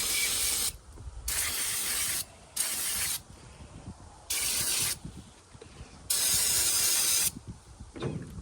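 Carburetor cleaner hisses from a spray can onto the carburetor of an Echo SRM-266T string trimmer in five or six short, close bursts with brief pauses between them, and no talking.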